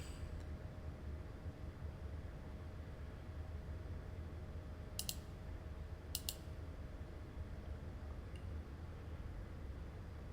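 Computer mouse clicking at a Unity editor desk, two sharp double clicks in quick succession against a quiet, low background hum, close and crisp but brief.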